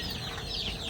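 Hens cluck softly in a backyard, short faint clucks and chatter over steady low background noise.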